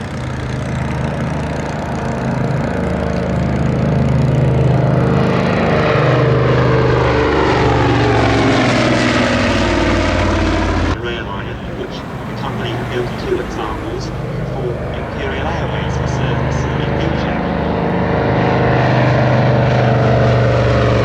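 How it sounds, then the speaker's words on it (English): Engine of a vintage Roe IV triplane on the ground at an evening air show, a loud continuous propeller drone that swells and shifts pitch, with a commentator talking over it. "now back on the ground, Mark Sharp with the Row 4 triplane."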